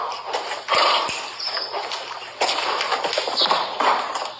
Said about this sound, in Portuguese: O cavalo é muito forte,